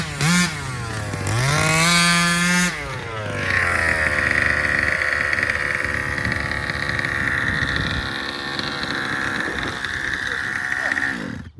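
A newly installed engine in an upgraded Baja 36 RC car screams at high revs, then settles into a steady loud droning whine that holds for several seconds, with a voice talking over it.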